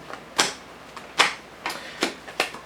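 Tarot cards being loosely shuffled, giving about five sharp, papery snaps at uneven intervals over a quiet background, with no talking.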